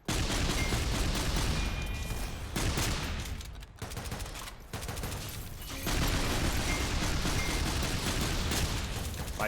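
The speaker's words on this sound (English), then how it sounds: "Those ion explosions." Ion weapon explosions and gunfire from the video game SYNTHETIK 2 form a loud, dense barrage of overlapping shots and blasts. It runs almost continuously, with brief dips in intensity, and no one speaks over it.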